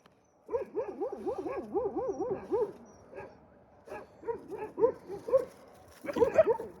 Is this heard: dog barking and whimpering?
yes